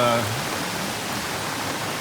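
Heavy morning downpour during the Philippine rainy season, a steady dense hiss of rain with no gaps, with a brief low voice murmur only at the very start.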